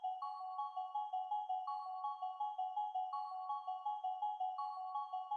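Glass Plux patch from the Albion synth library playing a short repeating plucked melody for a future bass track, bright bell-like notes in a steady looping rhythm, clean and alone.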